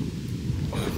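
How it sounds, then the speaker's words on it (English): Heavy rain and rumbling thunder outdoors in the woods, a loud, low continuous roar with a brighter burst of rain hiss near the end, no talk. "I know why it's raining."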